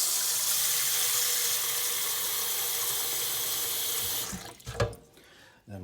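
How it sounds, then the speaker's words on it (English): Water from a kitchen tap pours in a steady, loud hiss into a pot for cooking, then shuts off, leaving a few clunks and splashes as the vessel is handled. "But let's go get some water."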